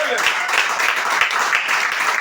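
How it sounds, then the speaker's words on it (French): A church congregation at a Gabonese tabernacle in Libreville claps and acclaims God, a loud, close burst of applause with rhythmic accents and cheering voices blended through it. "Est-ce qu'on peut donner une acclamation pour notre Dieu?"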